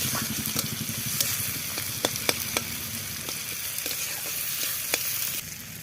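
Onion and chili fry in a pan with a close, constant sizzle, broken by scattered sharp pops and crackles.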